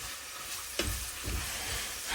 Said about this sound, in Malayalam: നമ്മൾ സവാള വഴറ്റിക്കൊണ്ടിരിക്കുകയാണ്